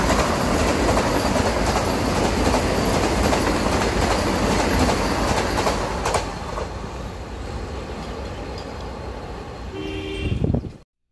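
A Vande Bharat Express on the Chennai–Coimbatore route rolls loudly into the station with heavy rumble and clatter. The noise eases as the train slows, and a short horn blast sounds near the end.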